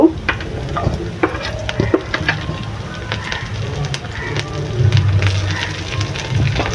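Chopped garlic hitting hot oil for crispy chicken in creamy garlic sauce, a dense broadband sizzle with clinks and scrapes of stirring throughout, fairly loud and close, with occasional faint talk in the background.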